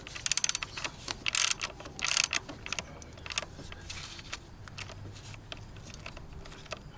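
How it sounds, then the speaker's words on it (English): A wrench tightening the PCV valve on a 2011 Toyota Camry Hybrid engine: quick bursts of metallic ratcheting clicks near the start, then scattered light clinks and tool taps, close and fairly quiet. "Now we're going to tighten it up with our tool, with our wrench."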